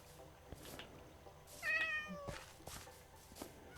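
A Minecraft cat, an orange-patched in-game pet, gives one soft meow amid quiet background game sounds, with no talking over it.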